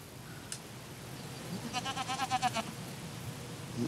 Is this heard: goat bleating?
yes